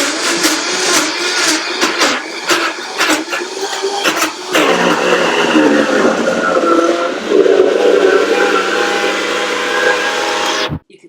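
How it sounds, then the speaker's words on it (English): A high-powered blender with a tamper churns a thick mixture with a cup of ice, giving a loud, continuous grinding roar for about ten seconds before it cuts off abruptly. "For this you will need the high-powered blender because you're going to need the tamper."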